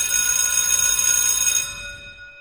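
A bright bell rings once with a clear metallic tone, then its high overtones fade away over about a second, alone with no voices.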